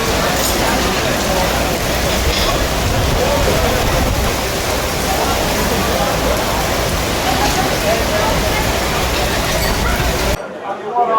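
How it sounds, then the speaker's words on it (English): Heavy rain pours steadily outdoors in Thessaloniki, a dense unbroken hiss and patter of drops on surfaces that holds loud throughout and cuts off abruptly near the end. "it is raining, and it is raining quite heavily"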